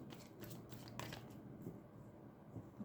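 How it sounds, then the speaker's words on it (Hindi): Tarot cards being shuffled by hand, a soft, faint riffling and sliding of cards at close range, with a few brief flicks and no talk. "final shuffle"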